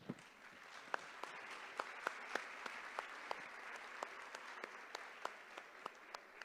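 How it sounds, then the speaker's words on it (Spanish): Audience applause in the Cine Teatro Imperial, a soft, even patter of many hands with a few sharper individual claps standing out, heard from some distance. "El aplauso para ellos."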